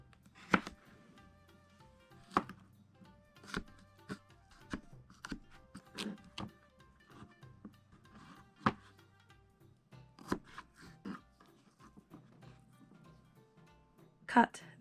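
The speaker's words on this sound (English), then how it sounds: "Cut the cucumber." A kitchen knife chops cucumber on a cutting board for sushi rolls, giving sharp, fairly evenly spaced taps of moderate loudness under a faint quiet voice.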